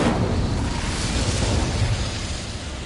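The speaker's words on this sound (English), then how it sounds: "Incendio." A fire spell cast in Hogwarts Legacy, giving a loud, sustained whooshing roar of flame that holds steady and fades slightly toward the end.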